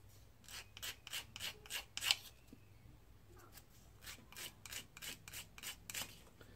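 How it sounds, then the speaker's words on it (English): Rhythmic rasping of sandpaper on a small resin part for an Airfix 1/400 Type 7c U-boat model, a series of close, quiet strokes in steady bursts with a brief pause midway. "So, let's just sand that off."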